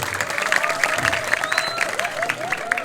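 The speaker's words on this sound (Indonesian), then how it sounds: "Tepuk tangan dong untuk kita semua." A crowd claps at a Calonarang performance at a Pura Dalem temple in Bangli, a busy, uneven patter of hands running the whole time beneath a prominent voice and other sounds.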